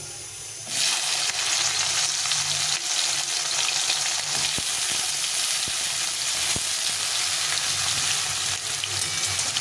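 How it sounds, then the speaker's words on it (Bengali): Bitter gourds hit hot white oil and burst into a loud, steady sizzle that holds evenly, with a few soft clicks of utensils against the pan. "তেলটা গরম হয়ে গেছে, প্রথমে আমি করলাগুলো ছেড়ে দেব।"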